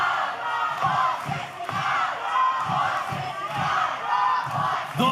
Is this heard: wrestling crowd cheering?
yes